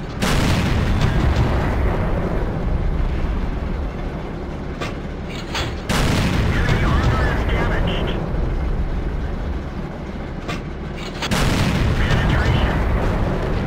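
Nashorn tank destroyer's gun firing in World of Tanks, three loud booming shots spaced several seconds apart, each followed by a long rumbling decay, with game noise and a voice underneath.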